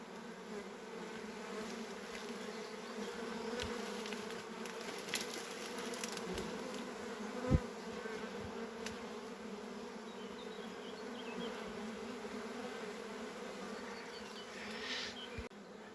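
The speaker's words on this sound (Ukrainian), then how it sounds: "це рій. Настоящий." A real swarm of honey bees fills the air with a dense, steady buzzing hum, continuous throughout with a few faint clicks and knocks, and no one speaking.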